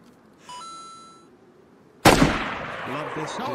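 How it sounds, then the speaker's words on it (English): One sharp, loud gunshot cracks out in DayZ partway through, followed by a decaying echo, after a short faint tone earlier; voices are faintly present. "I shot a guy behind you."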